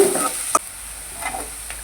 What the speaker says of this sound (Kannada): ಈಗ ಕಾದಿರುವ ಎಣ್ಣೆಗೆ ನಾವು ಸ್ವಲ್ಪ ಈರುಳ್ಳಿ ಹಾಗೆ ಸ್ವಲ್ಪ ಬೆಳ್ಳುಳ್ಳಿ ಇವೆರಡನ್ನೂ ನಾವು ಚೆನ್ನಾಗಿ ಫ್ರೈ ಮಾಡಬೇಕು